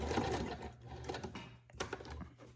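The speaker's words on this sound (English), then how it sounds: "No, it's sewing, we're good." A sewing machine runs a straight stitch through a junk journal page, a quiet rapid mechanical chatter that pauses briefly and restarts, heard close with no talking.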